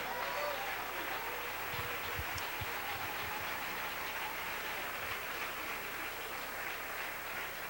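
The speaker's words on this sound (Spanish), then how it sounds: "Dele ese aplauso al Rey en esta noche." A church congregation applauding during a sermon, a dense, steady wash of clapping that fills the whole stretch at even loudness, heard from some distance with no voice on top.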